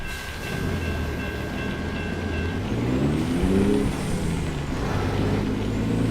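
A train rolls past in American Truck Simulator, a steady loud rumble with a rising, sweeping tone midway as it passes close by, no talk over it.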